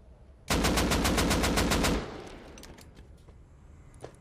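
Rapid gunfire in the survival game Rust, a loud, fast burst of about a dozen evenly spaced shots lasting over a second, followed by fading echo and a few faint distant pops.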